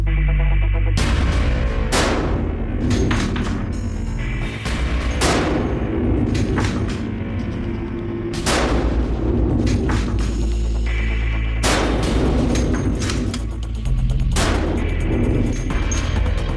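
Rifle fire from a bolt-action weapon, five rounds let off as fast as possible, each crack standing out as a loud sharp report spaced a second or two apart with cycling noise between, over a steady low background.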